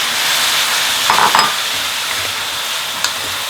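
Chow mein sauce poured into a hot pan with chicken noodles, making a loud, continuous hissing sizzle with a brief bubbling burst early on and a faint clink near the end.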